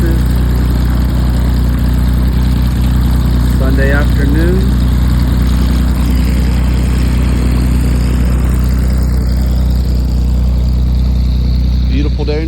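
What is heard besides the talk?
Cessna 180 airplane engine warming up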